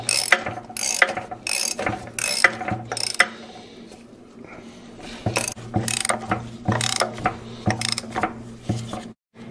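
A ratchet with a homemade socket tightening a bolt during a Caterpillar D4 transmission and clutch repair: close, sharp clicking in rapid bursts of strokes, a short pause midway, then more quick ratcheting.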